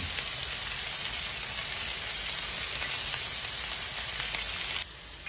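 Browned meatballs stirred into a pan of Dolmio sauce give a loud, steady sizzle and frying hiss that holds for about five seconds, then cuts off abruptly.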